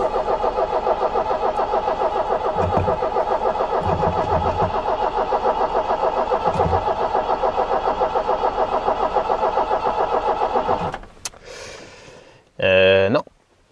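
An Iveco van engine cranks steadily for about eleven seconds, trying to start on its own without starting aid, a loud rhythmic churn that stops and is followed by a short burst of louder mechanical noise.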